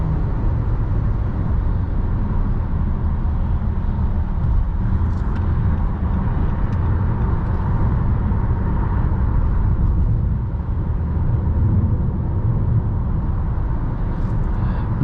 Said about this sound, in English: CVT has some like simulated shifts there